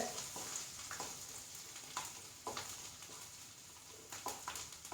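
Garlic dropped into a pan with ginger for a prawn roast sizzles steadily and closely, with light crackles and occasional stirring clicks. No one talks.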